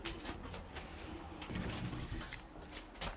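Racing pigeons in a loft coo softly and repeatedly, low throaty calls overlapping at close range in a quiet space.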